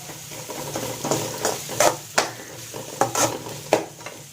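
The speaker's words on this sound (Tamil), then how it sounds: "ரெண்டு மீடியம் சைஸ் அளவுக்கு வெங்காயம், நல்லா வதக்கிக்கலாம்" Two medium onions sautéing in a pan for banana stalk poriyal, with a spatula stirring and scraping in repeated strokes over a steady low sizzle, close and fairly quiet with no voices.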